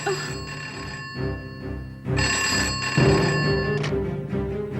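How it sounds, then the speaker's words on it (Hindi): A telephone bell rings in a police station scene from a dubbed Indian film, with repeated ringing bursts standing out clearly over a steady background. "देखा, पुलिस स्टेशन से फोन आ गया।"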